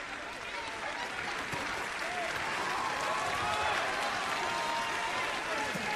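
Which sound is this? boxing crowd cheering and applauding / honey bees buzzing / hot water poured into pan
boxing crowd cheering and applauding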